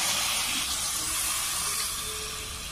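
Water poured into a pan of fried spices for chickpea ghugni gives a loud, steady broadband sizzle and hiss that hangs on through the whole stretch and fades only slightly toward the end.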